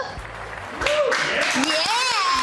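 Studio audience applause and cheering welcoming a guest, Angela Hill, onto a talk show set, a sustained wash of clapping that swells partway through beneath voices whooping and talking over it.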